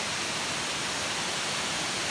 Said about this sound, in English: I've come to a really nice upper waterfall.